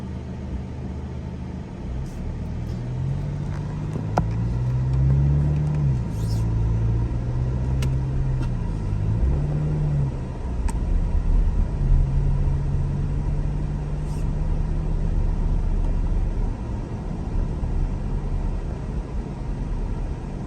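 A car cruises slowly along a road with a steady, close interior engine rumble and shifting low hum throughout, no one speaking.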